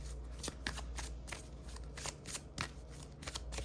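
A deck of cards is shuffled for a psychic card reading, with quick riffling bursts repeating in close, soft succession.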